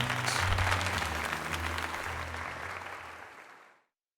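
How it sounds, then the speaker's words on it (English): Crowd applause in Pokémon Legends: Z-A, a dense sustained clapping over low background music tones that gradually thins and fades to silence. "let us give another heartfelt round of applause to Dillikins"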